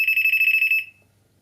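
A Banggood gold pinpointer metal detector emits a rapid, loud string of about a dozen high electronic beeps in steady rhythm, then cuts off to near silence.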